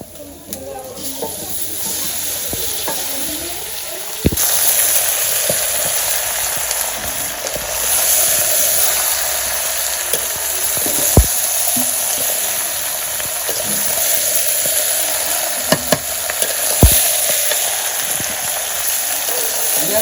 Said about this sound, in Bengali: পেঁয়াজটা ভাজা হয়ে গেছে মাংস দিয়ে দিব